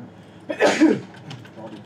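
A single sharp sneeze bursts out near the mic, followed by faint murmuring.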